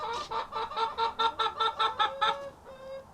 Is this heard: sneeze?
no